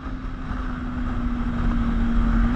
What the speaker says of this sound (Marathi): फक्त त्यांनी एक्झॉस्ट लावलेत आणि खूप क्रेझी फील येतोय